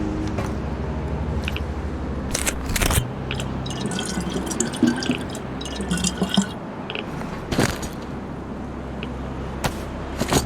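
Water poured out of a found bottle in the survival game DayZ, a steady splashing trickle with drips and squishy liquid sounds, broken by a few sharp clicks and thumps, with no talking.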